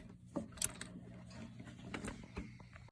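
Mechanical clicks and scrapes from loosening and pulling a 10mm bolt on a 2009 Subaru Outback engine during an intake VVT solenoid replacement, with a few sharp close taps and rattles over a low steady hum.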